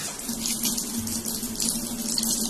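Water runs from a tap into bottles as they are filled, a steady close splashing stream at moderate level with no talk.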